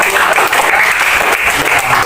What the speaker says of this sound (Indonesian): beri tepuk tangan kepada Arthur.